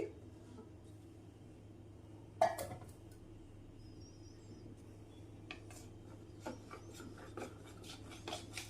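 Almond milk ingredients being stirred and mixed in a bowl: one sharp clink of a utensil against the bowl, then quiet, repeated scraping and rubbing strokes at close range.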